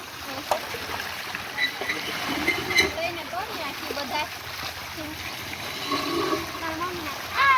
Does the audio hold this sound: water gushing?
yes